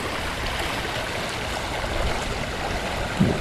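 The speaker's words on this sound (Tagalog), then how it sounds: "Ang lakas ng agos." Strong current of a creek at the end of a waterway in Calumpit, Bulacan, a steady broadband rushing and churning of water, close and continuous, with no voices.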